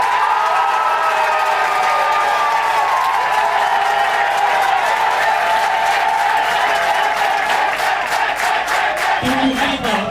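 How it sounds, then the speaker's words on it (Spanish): A studio audience at a television show applauds and cheers for a team, a dense, loud, continuous wash of clapping with whoops and shouts. "Aplauso para el equipo Scarlett"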